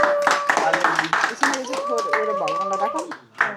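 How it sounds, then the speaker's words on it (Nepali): Hands clap at a first birthday celebration, mixed with voices talking and singing close by, forming a lively, busy family scene. "ताली"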